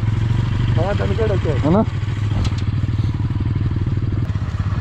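A motorcycle engine chugs steadily on a rough Spiti Valley mountain road, a close low idle-like putter running throughout while someone talks over it briefly.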